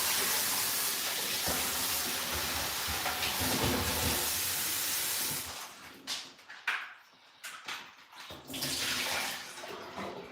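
A kitchen tap runs in a loud steady stream while fruit is washed for juicing, then breaks into uneven splashes and gurgles as the fruit is moved under the flow.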